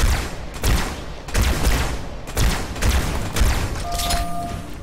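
Heavy gunfire and explosions in the Halo 2 video game, with loud repeated bursts of shots and booming impacts in waves, ending with a brief tonal electronic game sound.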